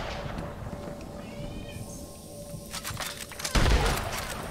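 Cat meowing inside the Red Dead Online video game, a short mewing call heard amid game ambience, followed by a sudden loud boom near the end.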